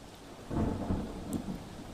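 A low rumble of thunder rolls over steady heavy rain during a flood in Surat, swelling midway and then easing.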